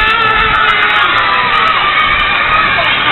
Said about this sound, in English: I'm gonna see you jump and scream now,